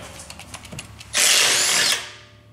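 Power tool, likely an impact driver, removing an 18 mm motor mount nut during transfer case removal on a Traverse, Acadia or Enclave: one loud close burst of about a second that spins down after faint workshop clatter.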